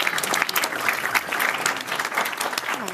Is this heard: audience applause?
yes